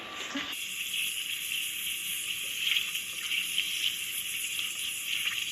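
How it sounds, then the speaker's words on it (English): Hand washing under a running kitchen tap between steps of preparing a whole chicken for rotisserie, a steady broad rush of water that holds at an even level throughout, with no talking. "Wash my hands again."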